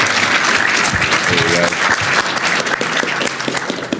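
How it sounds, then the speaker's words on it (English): Loud, dense audience applause for Robin at a new-talent comics panel at the Thought Bubble convention, a continuous burst of close clapping with someone speaking briefly over it. "Round of applause for Robin, please."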